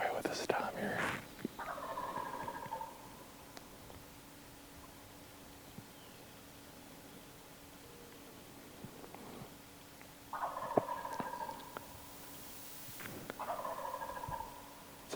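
A wild turkey gobbles in several bursts, rattling calls spaced apart over a quiet outdoor background, some close and others a bit farther off.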